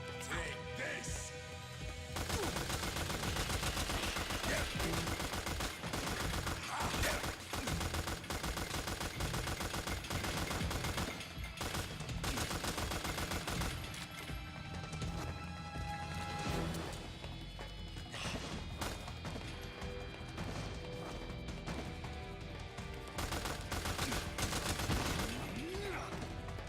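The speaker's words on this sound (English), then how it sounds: "Looks like we can just nail him with the machine guns." Sustained machine-gun fire in Metal Gear Solid 4: Guns of the Patriots, long rattling bursts mixed with crashes, mechanical clanks and game music, and a voice talking at times beneath the din.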